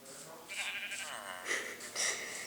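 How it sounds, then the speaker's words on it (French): Sheep bleat several times inside a video game, wavering cries rising and falling in close, moderately loud bursts across the moment. "Il y a un mouton, il est littéralement dans un arbre."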